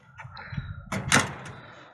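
A newly built barn door slides and closes with a scraping rumble that builds to a single loud thud, then settles.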